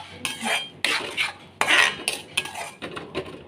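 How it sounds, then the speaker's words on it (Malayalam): Egg curry being stirred in a pan with a metal utensil, a series of loud close clanks and scraping strokes against the pan in quick irregular rhythm, no speech. "നല്ലവണ്ണം ഇളക്കി കൊടുക്കണം."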